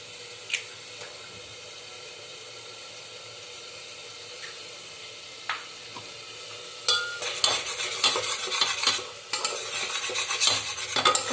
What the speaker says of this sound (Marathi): आता एक अंडा त्यामध्ये त्याच्यामध्ये मस्त फोडून टाकूया